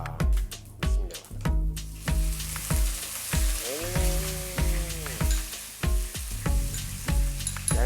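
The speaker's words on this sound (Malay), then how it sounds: "Dia agak macam dah meletup-meletup pop tu. Kita boleh masukkan bawang besar." Chopped onions hit hot oil in a home kitchen pan, giving a close, crackling sizzle broken by repeated sharp clinks and scrapes of stirring.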